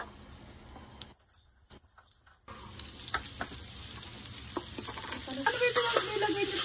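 Noodles fry in hot cooking oil with a steady, bright sizzle. It drops away briefly, then returns louder with scattered crackles and spatters, close and continuous, with no voices.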